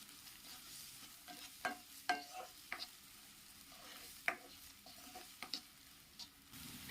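Onion and green chilli sautéing in coconut oil with salt in a pan, a soft steady sizzle under sharp scraping stirs of a spoon, no voices.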